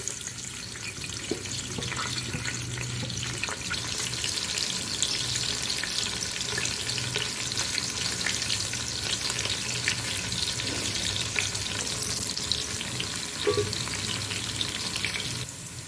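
Onions fry in hot cooking oil in a large pot, producing a dense, steady hiss of sizzling close up with occasional faint stirring bumps.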